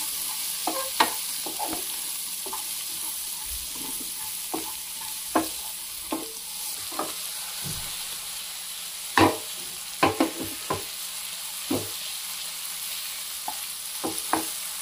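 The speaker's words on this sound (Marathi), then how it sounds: "आपण या भाज्या छान टॉस करून घेतल्या." Vegetables for white sauce pasta, seasoned with black pepper, tossed in a pan: a low sizzle under irregular scraping and clattering spoon knocks, some louder clusters, no voices.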